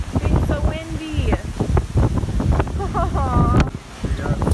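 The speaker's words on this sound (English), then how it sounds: "we're in a hurricane. Can you tell it, Colette? Tell it to stop being so windy." Strong, gusting hurricane wind roars across the microphone in continuous buffeting rumbles, with people talking loudly over it throughout.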